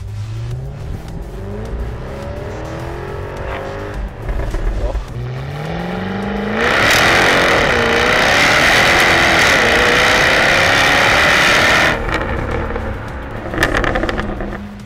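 A 2014 Jaguar F-Type V8 S with a supercharged 5-litre V8 revs hard from inside the car, rising to a loud sustained roar for several seconds, then dropping back with crackling pops from the exhaust.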